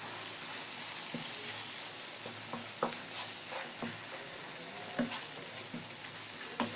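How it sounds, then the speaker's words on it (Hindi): Minced meat and spices for stuffed karela fry in a pan, making a faint, steady sizzle broken by soft stirring clicks. "सब चीज़ें ऐड करके हमने इसको अच्छी तरह से भूनना है"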